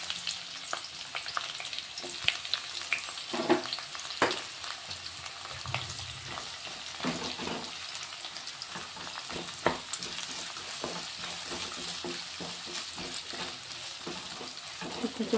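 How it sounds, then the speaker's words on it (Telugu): Sliced onions fry in hot oil for a chicken fry, giving a continuous close crackling sizzle with occasional stirring scrapes and pops throughout, with no voices. "ఇప్పుడైతే కట్ చేసుకుని ఉల్లిగడ్డలు వేసుకుంటున్నా"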